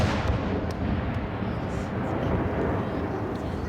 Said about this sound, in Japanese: なんかダリアの花火って感じ。